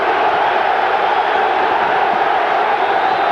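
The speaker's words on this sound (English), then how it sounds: "listen to the Juve crowd here, trying to urge on their side" A dense, steady roar comes from the Juventus crowd urging on their team during a 2003 Champions League match against Manchester United, filling the whole moment with loud, continuous stadium noise.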